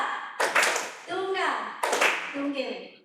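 An audience at a teachers' sharing forum answers a call for a single clap, giving two sharp claps in unison about a second and a half apart. A voice speaks between and after them.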